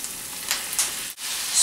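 Marinated pork hitting a pan of sautéed garlic and onion, a brief bright sizzle with a short dip then rising again, close and moderately loud.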